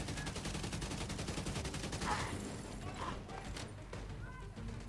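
Rapid automatic gunfire from a high-RPM weapon in The Division 2 crackles steadily throughout, dense and continuous, with a couple of brighter bursts partway through and talk faintly underneath.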